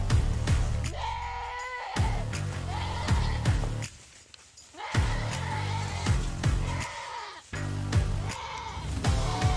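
A goat attacked by a Komodo dragon gives repeated bleating cries, loud and strained, in several bursts separated by brief pauses, with rustling and scuffling noise in between.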